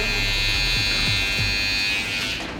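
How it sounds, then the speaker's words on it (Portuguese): A handheld finishing trimmer marks the neckline of a haircut, giving off a steady, close electric buzz with a bright whine that holds unbroken throughout, and nobody talks. "vou marcar com a minha máquina de acabamento e vou começar a fazer uma curva"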